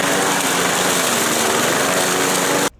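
A Powersmart 209cc 21 inch push lawn mower engine running loud and steady with a dense buzzing drone, cutting off abruptly right at the end.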